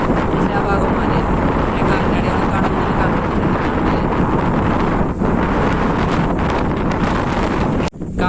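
Strong gusting wind on top of a mountain in Attappadi, a loud constant roar buffeting the microphone, steady throughout with a brief dip near the end.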